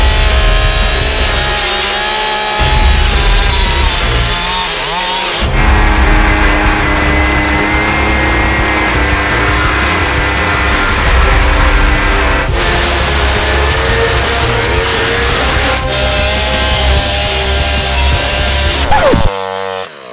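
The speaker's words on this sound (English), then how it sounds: "Oh, the chainsaw!" A chainsaw tears into a PlayStation 3 at a console-smashing event, its loud, continuous engine snarl running nearly throughout with shifts in pitch as the blade bites, before cutting out abruptly near the end.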